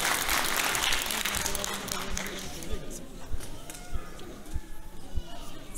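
An audience at a Turkish shepherds' competition claps for an award presentation to the head of the national sheep and goat breeders' union; full applause fades after a few seconds into scattered claps and taps.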